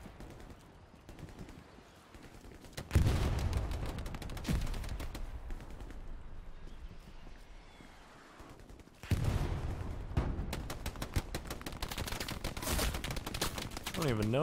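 Bursts of rapid gunfire and machine-gun fusillades from the World War II shooter Hell Let Loose crackle in two dense volleys, moderately loud, with sparse shots between them.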